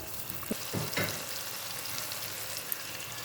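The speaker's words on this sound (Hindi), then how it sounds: "बस हल्की हल्की सौते करते हैं और फिर इसके अंदर हम डाल देते हैं बीफ" Beef sautéing lightly in a pan with garlic, a steady soft sizzle running throughout with a couple of brief louder bursts as pieces are stirred or added.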